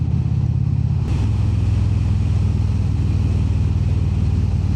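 Indian Springfield motorcycle engine with cylinder deactivation, heard while riding: a loud, steady low rumble that shifts pitch slightly after a brief change around the one-second mark, with wind noise throughout.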